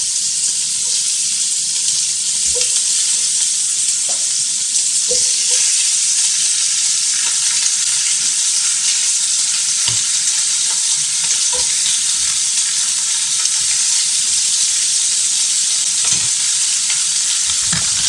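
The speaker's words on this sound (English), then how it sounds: "You can hear it sizzling." Meat sizzles steadily in hot oil in a pot for the whole stretch, a loud continuous crackling hiss with a few soft clinks and stirs.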